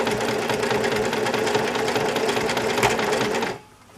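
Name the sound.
sewing machine sewing along a thick seam of an apron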